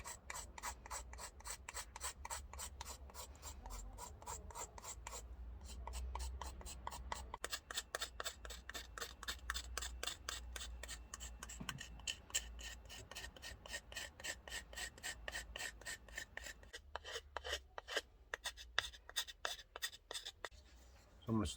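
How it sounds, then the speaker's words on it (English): Steady rasping scrape of a blade working over a green wood kuksa, smoothing rough cut spots, with a continuous fast rhythm of short strokes up close and brief pauses between passes. "I'm going to go around the whole thing and scrape it down."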